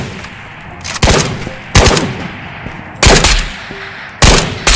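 Heavy gunfire rings out in a Ghost of Tarkov-style shooter video game, with four loud, sharp shots or short bursts spaced about a second apart, each leaving a brief echoing tail.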